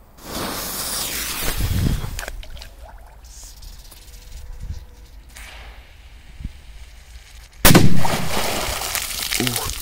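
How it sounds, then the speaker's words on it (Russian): A powerful firecracker set off in water, a deep muffled blast followed by a sustained hissing, splashing roar that fades; a second loud burst strikes near the end, with a voice reacting. "Мощный взрыв."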